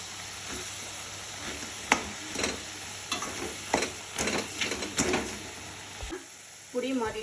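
Dried byadagi chillies sizzle in hot oil for a tomato pickle, a steady frying hiss with repeated stirring scrapes of a spoon in the pan, close and fairly faint, ending in a brief pause.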